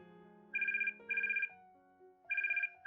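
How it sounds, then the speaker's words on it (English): Ringtone from a phone in the tactical game Troubleshooter: Abandoned Children, three bright warbling bursts about half a second each with brief gaps, loud and clear over soft musical background, no talk. "Phone call. Phone call."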